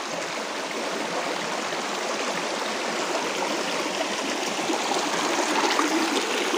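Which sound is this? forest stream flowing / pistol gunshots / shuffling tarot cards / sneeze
forest stream flowing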